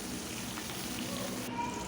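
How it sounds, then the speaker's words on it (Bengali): Pieces of rohu fish fry in hot oil in a pan, giving a steady, close crackling sizzle that stays even throughout with no clear voices. "মাছ এক পিঠ ভাজা হয়ে গেছে, আমি অন্য পিঠ উল্টিয়ে দিচ্ছি।"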